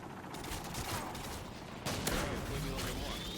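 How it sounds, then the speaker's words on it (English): Model 1887 lever-action shotgun firing in Modern Warfare 2 multiplayer: a few close, loud blasts over continuous game noise and distant gunfire, with one strong shot standing out midway. "Get close enough for the shotgun kill."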